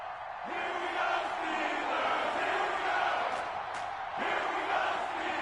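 An EA Sports NFL video game stadium crowd roars steadily before a Jacksonville Jaguars versus Pittsburgh Steelers matchup, dense and continuous with swells of cheering and a faint voice mixed in.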